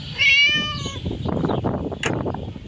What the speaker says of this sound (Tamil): மேல சவுண்டு கேட்குறது பூனையோட சவுண்டு